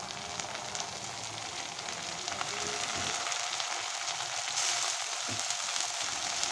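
Ground spice paste frying in oil with chopped onions for a ghugni made with mutton fat, a steady close sizzle and crackle running throughout, hissing more densely in the second half, with no voices.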